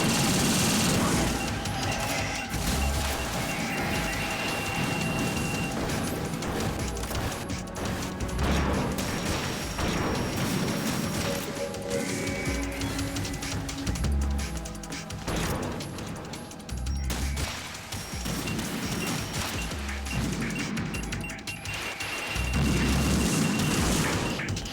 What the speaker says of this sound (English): I keep making the missiles collide in midair